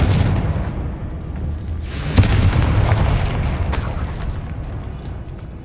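A Confringo spell explosion in Hogwarts Legacy, a loud booming blast with a rumbling, roaring tail that swells around the middle and fades into a sustained low roar.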